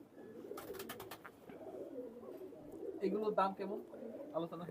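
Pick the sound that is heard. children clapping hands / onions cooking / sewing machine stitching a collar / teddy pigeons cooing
teddy pigeons cooing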